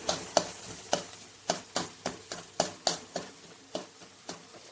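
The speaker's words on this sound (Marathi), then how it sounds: "आपण हा जो ठेचा केला आहे हिरवी मिरची लसूण आणि जिऱ्याचा तो पण घालून घेत आहोत छान परतून घेऊया" Green chili, garlic and cumin thecha stirred and sautéing in hot oil, a steady sizzle broken by a regular series of sharp spatula scrapes and clinks against the pan, close and clear.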